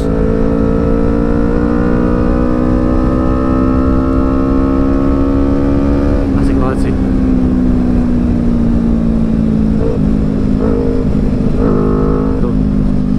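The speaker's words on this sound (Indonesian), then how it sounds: "begitu gue gas nambah throttle sedikit motornya loncat tuh" Loud, close engine note from a Yamaha R25 motorcycle fitted with a new exhaust, pulling steadily through the revs, then rising again after a brief throttle change partway through.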